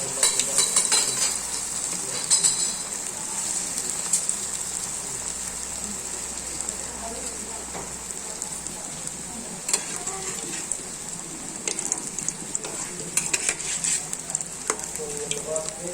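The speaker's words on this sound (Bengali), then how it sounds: "তেল আমাদের গরম হয়ে গেছে, এবার আমরা একটা একটা করে ছেড়ে দেব।" Soybean and potato pakoras fry in hot oil with a steady, dense sizzle and crackle throughout, punctuated by occasional sharper pops and spits, close and loud.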